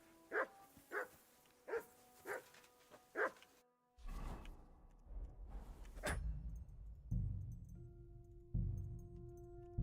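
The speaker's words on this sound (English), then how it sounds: "Henry, whistle at that mutt of yours to stop barking." A dog in the video game Kingdom Come: Deliverance II barks five times in a steady rhythm, loud and close. Softer background game sounds follow.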